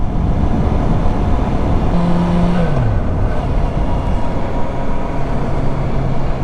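Motorcycle riding along Pennsylvania roads, with a steady, loud engine drone and heavy wind rumble throughout and a brief tonal shift midway as the revs drop.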